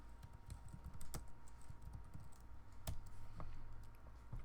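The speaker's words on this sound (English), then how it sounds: "and type your own custom text." Keystrokes on a computer keyboard while typing custom text during a Blender software session: irregular, fairly quiet clicks and taps spread through the clip, with a few sharper louder key hits standing out, no talking.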